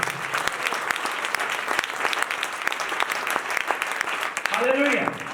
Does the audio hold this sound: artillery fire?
no